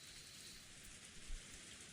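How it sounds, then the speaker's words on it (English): Heavy rain pours steadily in a Higurashi visual novel scene, a dense, constant hiss with a brief swell of louder drops near the middle, no voices. "The sound of heavy rain plays."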